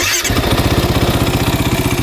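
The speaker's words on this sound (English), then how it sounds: "Starts right back up" A used quad ATV engine catches after a brief crank and settles straight into a loud, steady, rapidly pulsing idle, close up with no talking.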